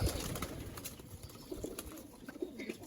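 Pigeons give soft, faint coos in a loft at dusk, scattered low calls with a few light rustles in between and no talking.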